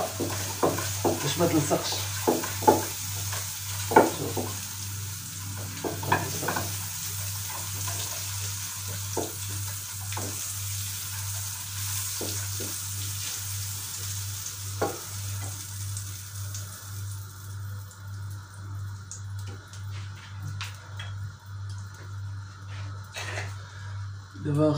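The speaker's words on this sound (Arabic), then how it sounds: "دابا حنا درنا المقلة سخن، دابا غنديرو الزبدة." Butter sizzles and crackles in a hot frying pan, a steady frying hiss with scraping stirs and clinks, while a person talks intermittently over it.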